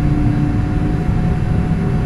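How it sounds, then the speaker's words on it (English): Boeing 747 airliner taxiing toward the runway, a loud, steady engine roar and hum with a faint high whine, continuous and even throughout, with no voices. "We are now taxiing to runway 6 left, headed for Los Angeles International, LAX."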